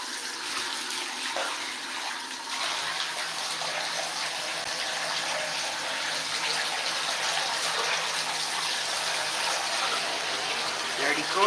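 A sponge is rinsed under a running bathtub tap during tub cleaning, with a continuous loud gush of water and faint irregular squelches and splashes within the flow.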